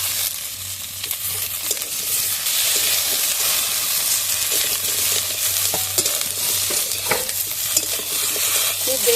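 Potatoes, ridge gourd and okra frying in a little oil, a loud continuous hissing sizzle close by with intermittent scraping taps of stirring, no speech.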